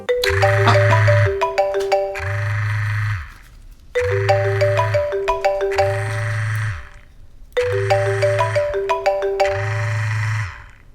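A mobile phone ringtone rings loud and near, then goes unanswered: the same bright electronic chiming melody over a pulsing low buzz repeats three times in a row, with no talking.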